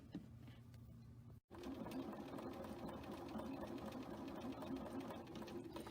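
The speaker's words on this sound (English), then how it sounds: "take it to the sewing machine and stitch on both sides of that drawn line" A sewing machine stitches quilt fabric with a 1/4-inch foot in a steady, fast mechanical whir, stopping for a split second before starting up again and stitching on continuously.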